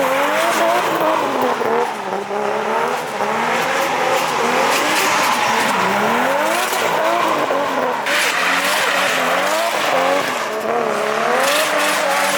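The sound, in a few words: car doing donuts, tires squealing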